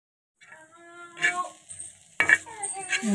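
Garlic, onion, green chili and fish stirred together in a hot pan, with scraping spatula strokes over a soft sizzle and a louder clatter midway, after a short quiet start.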